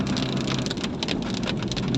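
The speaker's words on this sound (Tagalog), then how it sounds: "Walang tigil ang ulan." Steady rain falls on the old zigzag road at Atimonan, Quezon, a continuous hiss of drops with a faint passing-vehicle rumble underneath, no voices.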